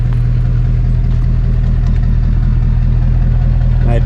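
An LB7 diesel truck engine idles with a steady, loud, low rumble that holds unchanged and close throughout, while being checked for head gasket failure.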